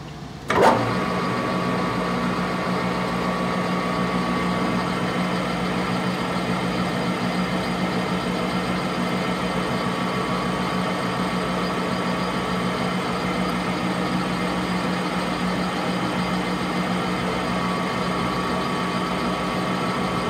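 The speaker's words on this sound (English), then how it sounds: "here we are at the lathe, ready to bore this next land" A metal lathe boring a bullet mold block made from old plumbing fittings, a steady loud machine hum and whine that starts with a brief clunk and then runs unchanged throughout, no talking.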